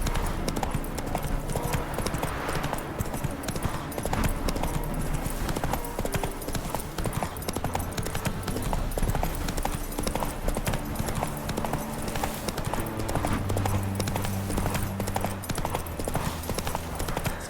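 Horse hooves clip-clopping while riding in The Witcher 3, a continuous rhythmic trot of hoofbeats running throughout under game music, with occasional snorts or a whinny.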